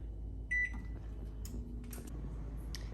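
A kitchen oven being set to preheat to 325 degrees gives a short electronic beep, then faint clicks and small kitchen noises over a steady low hum.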